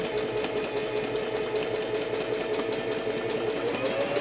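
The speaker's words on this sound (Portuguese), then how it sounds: "vê que a máquina ela já vai mais lenta, porque a batida dela tá muito juntinho ali, o ponto da agulha" A sewing machine runs slowly on a tight, very short stitch, giving a steady, rapid needle patter with an even mechanical hum throughout, close and continuous with no talking.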